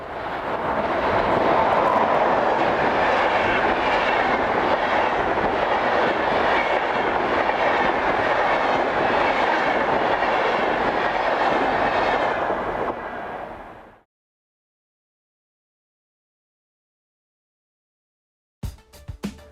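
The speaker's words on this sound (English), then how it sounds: "as 103243 heads north, powering the 1211 departure from Stuttgart to Dortmund" A DB Class 103 electric locomotive hauls a northbound Stuttgart–Dortmund passenger train through the Rhine Valley, roaring past loud and close for about thirteen seconds before cutting to silence.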